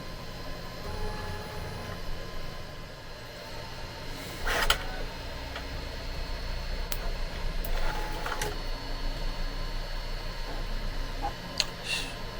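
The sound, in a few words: Bambu Lab A1 Mini 3D printer running flow calibration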